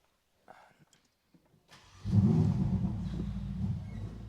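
A Ferrari F8 Spider with a 710-horsepower V8 fires up after a few quiet clicks, settling into a loud, rumbling idle close by, with no talk over it.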